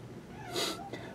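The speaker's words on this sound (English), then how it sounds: "Someone get that cat out of here." A cat indoors gives a single brief, faint meow lasting under a second, nearly alone against a quiet room.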